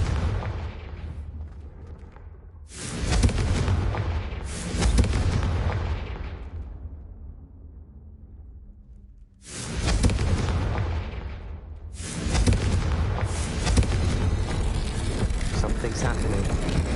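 Confringo explosive spell blasts from Hogwarts Legacy erupt in loud bursts, each followed by a fading rumble, with several separate blasts spread across the scene.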